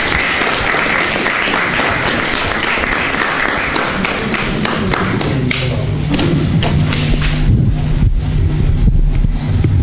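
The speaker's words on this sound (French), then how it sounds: "Accueillons avec beaucoup d'applaudissements Adjaratou Sidibé, la slameuse." A live audience at a midday broadcast event gives loud, sustained applause to welcome a slam poet, a steady roar of many hands with a faint tone sounding underneath.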